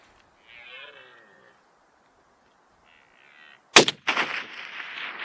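A single sharp rifle shot cracks out during a red stag hunt in the open, loud and close, with a rolling echo trailing away. Faint bleat-like animal calls are heard before it.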